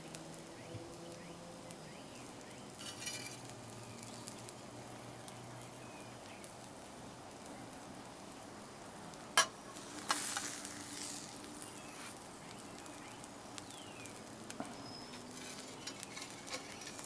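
Countertop stuffed hashbrowns with meat and vegetables sizzle softly and steadily on a cooking surface, a faint continuous crackle with a couple of brief louder clicks.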